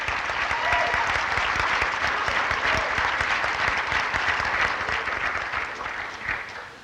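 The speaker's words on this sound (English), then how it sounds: "Please give them a round of applause for their efforts." An audience at a high school National Honor Society induction claps in steady, dense applause that holds loud for several seconds, then starts to taper near the end.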